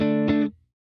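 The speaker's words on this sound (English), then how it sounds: "Here's the clean tone again." Clean electric guitar tone, a brief ringing chord with a second strum that cuts off quickly into silence.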